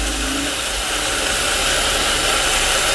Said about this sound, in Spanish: Y ahora voy a llevar a licuar.